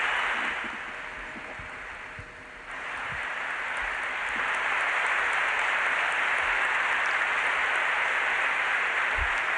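Loud, sustained applause fills St. Patrick's Cathedral for Pope Benedict XVI, a dense crowd roar that dips briefly, then swells and holds steady to the end.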